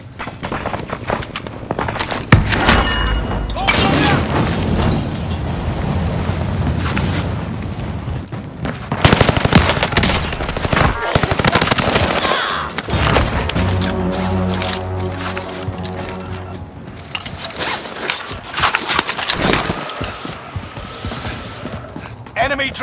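Video game gunfire crackles in loud bursts and booms, scattered and overlapping across a chaotic firefight, with voices talking between and over the shots.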